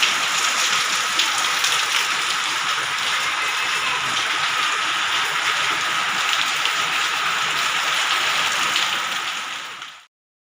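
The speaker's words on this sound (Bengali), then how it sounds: "ঝমঝম করে বৃষ্টি পড়ছে" Heavy rain pours down in a dense, constant hiss with no other sounds, then stops abruptly.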